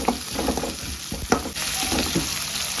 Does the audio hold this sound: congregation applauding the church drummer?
no